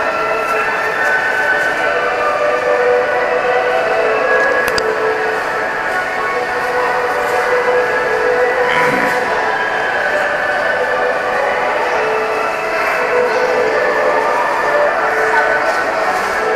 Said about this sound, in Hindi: Level 3 Sentosa monorail.